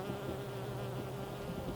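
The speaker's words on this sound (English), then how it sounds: "Honeybee collecting nectar and pollen off the ivy." Steady buzzing of honeybees gathering nectar and pollen on flowering ivy fills the air, a continuous droning hum at close range with no voices.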